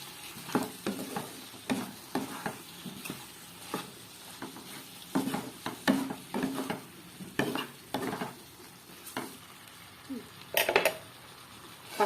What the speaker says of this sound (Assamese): তাৰপিছত অকণমান লৰাই আকৌ ঢাকনি মাৰি দিম।